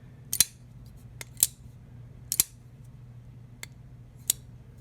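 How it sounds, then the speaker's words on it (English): A folding knife clicks as its blade locks into place, with several sharp metallic snaps at irregular intervals and a few fainter ticks in between, close and clear against quiet background hum. "You hear it click into place when it locks"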